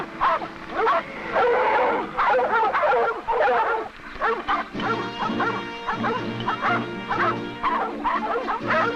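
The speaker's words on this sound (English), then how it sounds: "Their barks make the dogs easy to follow" Pack of hunting dogs chasing a grizzly bear outdoors, barking and yipping continuously and loudly with excited overlapping yelps and whimpers throughout.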